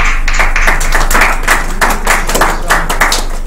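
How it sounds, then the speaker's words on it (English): A small meeting audience claps for a speaker at a job-search group gathering, loud close handclaps in a brisk, uneven patter that continues to the end. "a round of applause to Cole"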